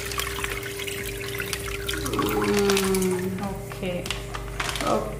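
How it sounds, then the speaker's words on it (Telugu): Water is poured slowly into a home fish aquarium, a steady close trickle and splash that swells in the middle, with a low hum and background voices around it. "ఈ వాటర్ అయితే ఇందులోనే పోసుకోవాలి. మెల్లగా మెల్లగా స్లోగా పోయి మనం."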